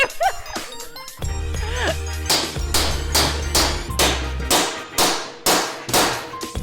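Steady metal clangs from a hammer striking a custom metal panel being fabricated for an offroad rig, about two blows per second, loud and close, ringing over a low hum.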